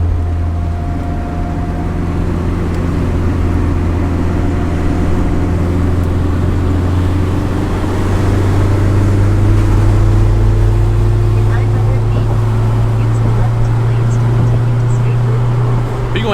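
A turbocharged K20 engine in an all-wheel-drive four-door Acura Integra hums steadily from inside the car, a low drone that swells as it builds revs, with voices talking faintly over it.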